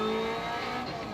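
A rally car engine in the racing game Assetto Corsa drives steadily toward a stage start, a sustained mid-level motor drone with faint tonal harmonics and no talking.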